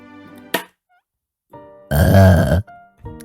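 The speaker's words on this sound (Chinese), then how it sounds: "怎么老打嗝呢？" Several burps from a Vtuber: a short sharp one early on, then a long, loud, deep belch in the middle, with quieter vocal sounds and talk between them.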